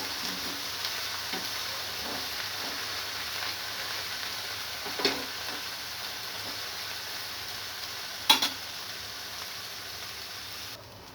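An onion uthappam cooks on a pan over low heat, giving a steady close sizzle and frying hiss throughout, with a few soft scraping taps of a spatula and a sharper clink near the end, no talking.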